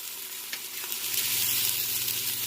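Ginger garlic paste sizzles steadily in hot oil for a beetroot egg curry, a continuous close frying hiss that swells slightly louder toward the end, with no voices.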